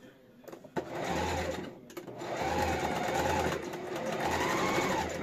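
A sewing machine stitches a cow-shaped plastic bag holder whose thread is running stiff, in three sustained whirring bursts separated by short pauses, near and fairly loud, with someone speaking over it.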